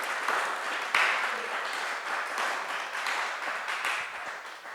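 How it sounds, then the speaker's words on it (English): Warm audience applause at an artists panel held at USF Contemporary Art, a full room clapping steadily for several seconds, fairly soft and distant before fading slightly. "Huge applause for that."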